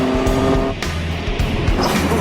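Cars zooming past on an open road during a road rally, loud engine roar with a brief tire squeal and a whooshing pass-by, close and continuous.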